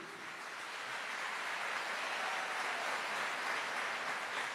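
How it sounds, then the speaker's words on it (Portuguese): Sustained applause from an audience at a priest's talk, a dense, even wash of clapping that swells slightly and holds steady throughout. "Pode aplaudir."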